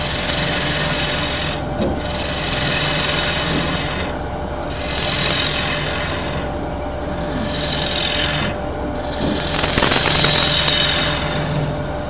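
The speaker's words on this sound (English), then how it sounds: "go to the drilling step." Wood being drilled on a lathe during hollowing, a steady rasping, scraping grind with a squeal in it, running continuously at close range with rhythmic surges and no voices.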